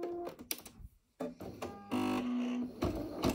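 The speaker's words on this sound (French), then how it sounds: "elle commence à faire quelques points" Embroidery machine beginning to stitch a felt appliqué, giving bursts of mechanical clatter with a steady whirring stretch in the middle, close and moderately loud, no talking.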